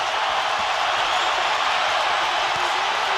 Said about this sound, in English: Crowd sensing the end is near, on their feet.